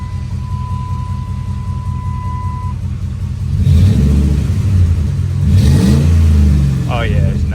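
Buick Electra engine with a new side exit exhaust, idling low and steady before revving twice in deep rumbling surges, heard from inside with people talking.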